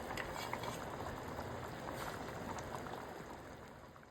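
Karnataka-style Hayagriva prasadam simmering with ghee in a pot, a constant close bubbling and gurgling that holds steady throughout with no voices.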